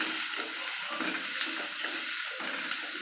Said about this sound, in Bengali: তো চিকেনগুলো দিয়ে এবার আমি একটু ভালো করে নেড়ে নিলাম